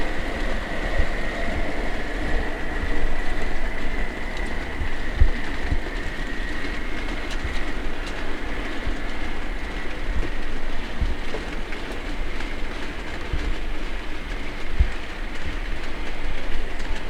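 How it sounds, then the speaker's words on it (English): A model railway WD class locomotive hauling a long train of private owner coal wagons along a layout, a steady loud rumble with continuous clickety-clack of wheels on track and no speech. "WD class in the LMR livery, pulling a lengthy private owner coal wagon train"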